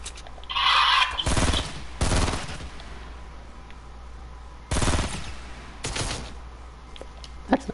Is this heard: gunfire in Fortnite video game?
yes